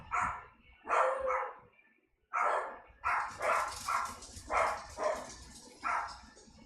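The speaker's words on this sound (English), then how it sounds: "Don't mind the dogs." Dogs bark in a string of loud, close woofs with short gaps, about ten barks in uneven rhythm over faint game audio.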